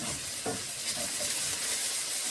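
Mushroom stir-fry with coriander leaves stirred in a hot pan, giving a steady soft sizzle with a few scraping stir strokes, close by and fairly quiet, with no talking.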